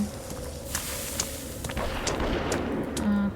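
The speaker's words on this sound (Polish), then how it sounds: "Dwa strzały z krótka powinny go zabić" Several sharp gunshots in the video game Sons of the Forest crack in quick succession over a constant noisy background, fairly loud with no talking.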